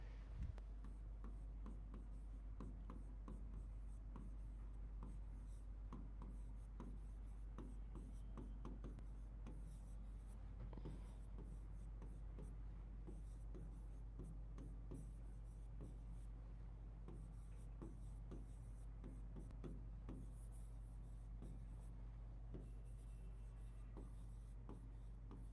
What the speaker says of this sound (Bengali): আমি তোমার সেন্টেন্স লিখি।